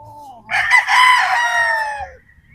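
A Gilmore hatch gamefowl rooster crows once, close and loud, a long harmonic call lasting about a second and a half that trails off at the end, over faint background noise.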